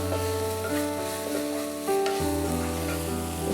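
Onions sauté with salt in a pan for an egg drop curry, giving a steady sizzle and occasional stirring under continuous background music.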